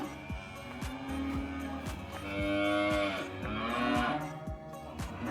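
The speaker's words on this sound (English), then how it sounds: "I think the cows are having a party. Oh, it's baby ones." Several calves moo repeatedly in overlapping, drawn-out calls, close by, with a steady low rumble and occasional sharp knocks underneath.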